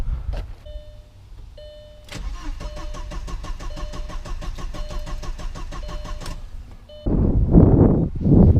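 Audi engine cranking with a rapid, even stutter for about four seconds as the ignition key is turned, preceded by electric priming whirs and followed by rustling noises.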